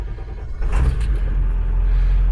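A 1999 Ford F350 4x4 with the 7.3 Powerstroke turbo diesel and 265,000 miles cold-starts: a brief cranking burst, then a steady, loud, low diesel idle rumble that holds close and continuous.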